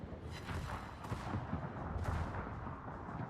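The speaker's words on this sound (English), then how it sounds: "Yeah, another torpedo hit." A torpedo hit explodes against a warship in World of Warships, with heavy booming blasts and a rumbling low roar as distant gunfire thuds through the scene.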